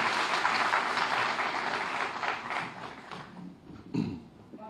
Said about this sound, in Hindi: जोरदार तालियों के साथ माननीय मुख्यमंत्री महोदय का स्वागत कीजिए